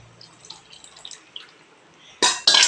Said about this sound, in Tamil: இப்போ புளி ஊற்றிக்கங்க